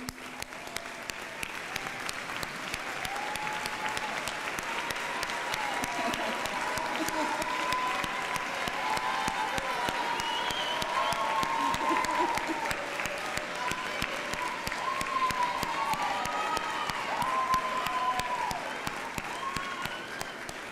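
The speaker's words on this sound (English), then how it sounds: "let's give them a round of applause for their dedication" Sustained applause from a large commencement ceremony audience honoring the faculty, steady dense clapping filling the whole stretch with a faint crowd murmur beneath.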